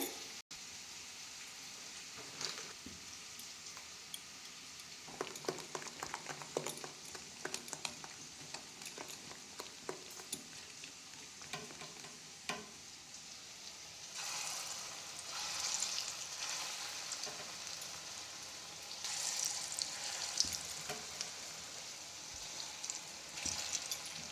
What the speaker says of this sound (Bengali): বড়াটা ভাজি আর তোমাদের সাথেও শেয়ার করি